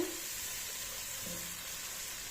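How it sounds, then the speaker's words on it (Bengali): Garlic frying over medium heat in a pan while being stirred continuously, a faint steady hiss and sizzle with a soft scrape or two, close by and without talk. "মিডিয়াম হিটে ভাজবো যাতে রসুন পুড়ে না যায়। কন্টিনিউয়াসলি নাড়ব"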